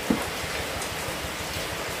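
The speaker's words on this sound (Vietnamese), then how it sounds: "mưa lạnh quá" Cold rain falling in the rural countryside during flood season, a steady, even hiss of drops on surfaces close by with no voices.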